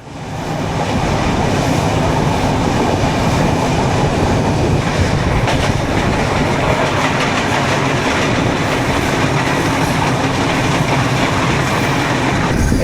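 A moving passenger train, the Padma Express at night near Dhaka Airport station, rumbles loudly and steadily throughout, with rhythmic clatter of wheels on rails and no voices.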